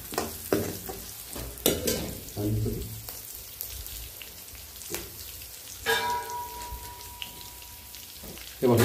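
Chili and turmeric crackle in hot oil after garlic, a tempering that sizzles and pops under scattered stirring and clatter of a pan, moderately close with bursts of louder activity.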